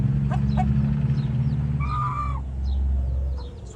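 Five-month-old young chickens cluck and squawk close by in short repeated calls, one louder drawn-out cry in the middle, over a low steady background hum.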